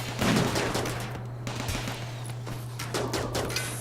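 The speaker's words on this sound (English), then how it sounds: "what are these guys shooting at?" Rapid volleys of gunfire from colonists shooting in RimWorld crackle in bursts at the start and again near the end, set over a steady low hum.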